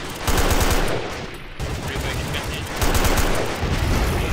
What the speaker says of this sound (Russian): Так, тут там, блин, где-то пулемет.